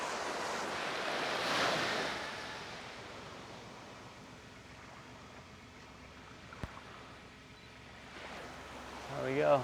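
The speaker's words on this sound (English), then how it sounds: "There we go, walking on the beach." Ocean surf washes onto a beach in a broad, rushing swell that rises and then ebbs, mixed with wind buffeting the microphone.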